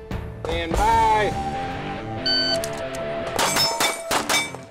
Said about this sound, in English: The unmistakable sound of five shots and five hits.